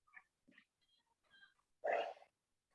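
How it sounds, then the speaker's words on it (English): Dogs bark in a few short, scattered yelps, then one louder, fuller bark near the end, all fairly faint against a quiet background. "Sorry that the dogs were barking."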